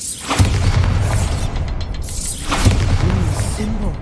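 Bombarda explosion spell cast in the video game Hogwarts Legacy, two loud booming blasts with crackling debris, each followed by a fading rumble.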